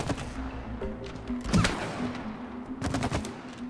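Gunfire in the video game It Takes Two, a couple of short bursts of rapid shots, one near the middle and a cluster near the end, over faint background game sounds.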